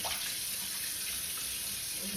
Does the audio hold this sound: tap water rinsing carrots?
yes